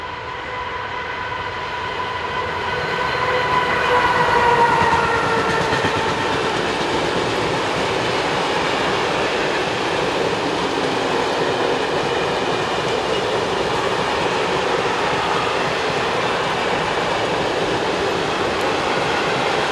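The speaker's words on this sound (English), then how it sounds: "Here at 130-052, one of 11 operational examples in its fleet, heads a coal train for the power station north of Mielnik." A Czech class 130 locomotive hauls a coal train bound for a power station near Mielnik in the Elbe valley, with a steady rumble of wagons rolling past, faint clickety-clack and a brief thin wheel squeal near the start.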